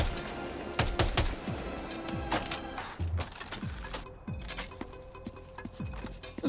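Gunfire from a semi-automatic weapon in Death Stranding 2 rings out as a rapid series of sharp, loud shots with quick decaying tails, irregular in rhythm and near.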